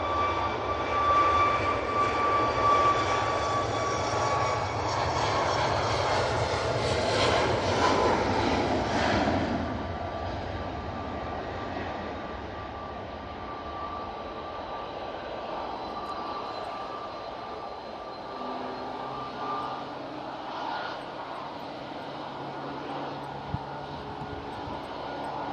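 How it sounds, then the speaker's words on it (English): A Ryanair Boeing 737 MAX jet rolls down the runway on takeoff, a broad engine roar that swells over the first ten seconds, then eases into a steadier fading rumble, heard from a distance in stormy conditions. "Ryanair 737 MAX now on the roll. Off to Bratislava."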